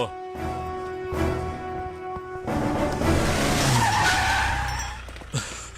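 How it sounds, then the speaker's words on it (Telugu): A vehicle brakes suddenly and its tires skid, a loud, sustained screech with engine roar that rises and then fades over several seconds, close by and with no speech. "ఏంటి సార్ సడన్ గా బండి ఇక్కడ ఆపేశారు?"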